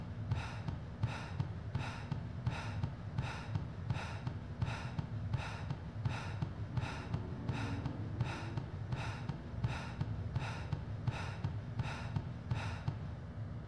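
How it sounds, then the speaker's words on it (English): Heavy, regular breathing of a character in Resident Evil: Dead Aim, with steady paced breaths repeating about every second over a low background hum, alone and moderately quiet. "The breathing is getting louder."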